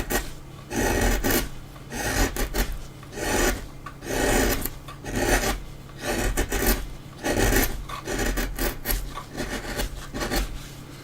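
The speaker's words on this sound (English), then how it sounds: "I'd forgotten how nice basswood or lime wood is to carve." Rhythmic rasping scrapes of a chisel cutting into soft basswood, repeated strokes about once a second, close and steady with no talking.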